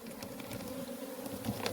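A steady, low hum of many honeybees buzzing together, continuous and fairly quiet, from a winter cluster inside a hive in early February.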